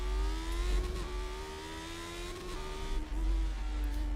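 Lotus 79 Formula 1 car engine at Brands Hatch in a classic F1 racing video game, a steady high revving drone with shifting pitch and a couple of sharp pops near the middle and the end, heard alone.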